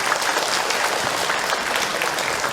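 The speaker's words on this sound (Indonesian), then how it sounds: "Tepuk tangan buat kita semua." Audience applause at an Islamic religious lecture by Ustaz Hilman, a dense, steady clapping from a full room that runs loud and unbroken throughout, with no talking over it.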